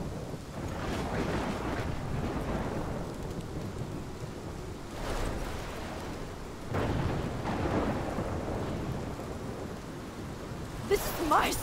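A storm in the video game Life Is Strange rumbles with rolling thunder over a constant roar of heavy rain and buffeting wind, the low booms swelling and fading in waves.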